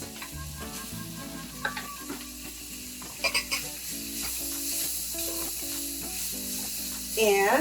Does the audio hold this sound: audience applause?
no